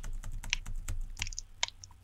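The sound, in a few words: laptop keyboard space bar clicking, sticky from spilled Sprite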